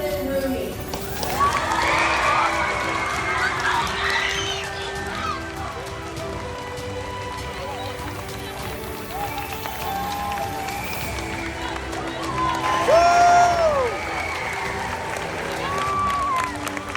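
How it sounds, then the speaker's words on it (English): An audience reacts to a surprise appearance by a special guest on stage with loud screaming, yelling, cheering and applause, a dense roar that swells and fades, with excited shrieks rising above it. "there were people screaming and yelling"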